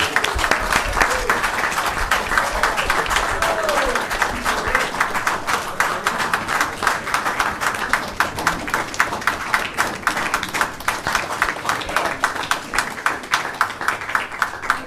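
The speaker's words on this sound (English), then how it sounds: "Let's give her a round of applause" Sustained audience applause fills a city council meeting chamber, dense rapid clapping from many hands, loud and steady for the whole stretch with no talk.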